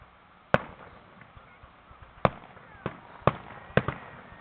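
Fireworks burst at a 2017 show in Olathe, Kansas, with a series of sharp, distant booms a second or so apart over faint crowd murmur.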